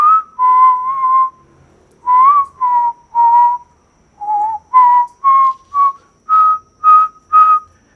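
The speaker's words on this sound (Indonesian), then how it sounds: "Kenapa aku harus hentikan siulanku? Itu siulan pengundang hantu" A person whistles a wavering melodic tune alone in short, clear phrases with brief pauses between notes, close and fairly loud against a quiet background, in a supposedly haunted house in Malang.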